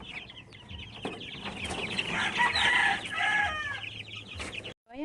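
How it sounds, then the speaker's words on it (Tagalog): Small chickens cluck and crow close by, their calls rising and overlapping, followed by a brief silence and a sudden noise at the end. "Yung maliliit nating manok, oh, bantam."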